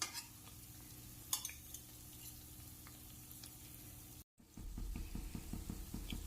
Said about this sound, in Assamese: আৰু 5 মিনিট মই ভাজি ল'ম।